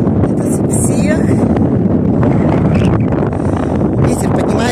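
Wind buffets the microphone on a mountain above the sea near Anapa, a constant loud roaring rush with no pauses.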